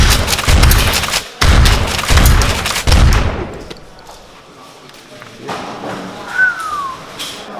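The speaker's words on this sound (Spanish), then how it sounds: "Mira qué tiros tan precisos con la pistolita." A shotgun and a pistol fire in a Spanish film, several loud, close, booming shots in quick succession, then quieter thuds and a brief whistle as the scene settles, with people speaking.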